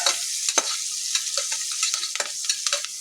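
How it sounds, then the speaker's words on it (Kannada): Onions frying with turmeric powder in a pan for vegetable pulao, a soft background sizzle broken by repeated sharp scrapes and clacks of a spatula being stirred through, close and without speech. "ಅರಿಶಿನ ಪುಡಿ ಹಾಕಿದ್ಮೇಲೆ ಸ್ವಲ್ಪ ಬಾಡಿಸ್ಕೋಬೇಕು. ಸ್ವಲ್ಪ ಈರುಳ್ಳಿ ಚೆನ್ನಾಗಿ ಫ್ರೈ ಆದಮೇಲೆ"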